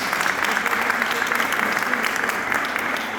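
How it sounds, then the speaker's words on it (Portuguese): Applause from an audience at a spiritual summit presentation, a steady dense wash of clapping that holds at an even level throughout without pause. "Uma salva de palmas para o Fernando."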